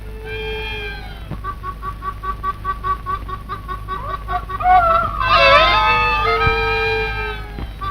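Chickens cluck and squawk loudly and close by in a farmyard scene from a 1946 Hindi film, in rapid repeated calls that swell into a louder overlapping burst before trailing off.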